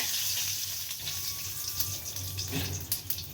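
Whole cumin, dried red chili and bay leaf frying in hot oil, with a steady close hiss and crackle that runs throughout and a few sharper pops near the end.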